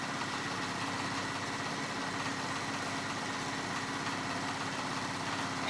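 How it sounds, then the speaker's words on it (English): A sewing machine stitching a seam on a baby romper, a steady rapid mechanical whir with fine repeating stitch pulses, continuous and close with no talk. "So I'm going to go ahead and sew that up."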